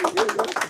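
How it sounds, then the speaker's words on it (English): Crowd clapping in quick, even bursts at a go-go music show, tightly mixed with a voice talking over it, close and fairly loud. "Clap it up for that, man."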